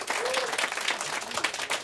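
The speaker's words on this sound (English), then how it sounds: "Give him a round of applause for that." An audience gives a round of applause, a dense, bright wash of many hands clapping that fills the whole short moment at a moderate distance.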